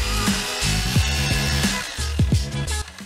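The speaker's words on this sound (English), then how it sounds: "I come in here with a hammer drill." A hammer drill with a masonry bit bores into concrete block in a crawl space, giving a loud, close, gritty grinding whine with several short pitch-dipping surges as the bit bites and eases, no talking.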